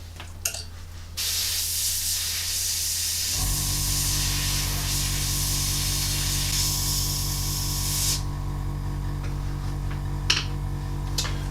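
An airbrush blows out leftover grey paint in a continuous close hiss lasting several seconds over a low steady compressor hum, then cuts off.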